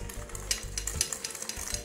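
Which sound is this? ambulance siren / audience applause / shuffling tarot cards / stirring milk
stirring milk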